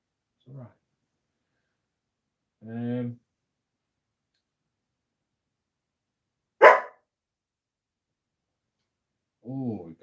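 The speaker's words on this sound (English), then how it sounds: "Millie's decided she wants to have a bark." Dog Millie barking indoors, a few separate short barks and yelps spaced several seconds apart with silence between, fairly close, one sharp higher-pitched burst among them.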